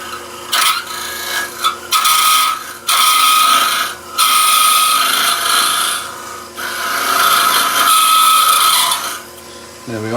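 A woodturning lathe running at 1600 rpm makes a hollow-forming cut with a hook tool and follower, giving loud, close, raspy scraping passes broken by short gaps, with a voice speaking briefly at times.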